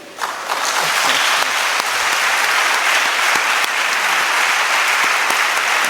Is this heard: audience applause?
yes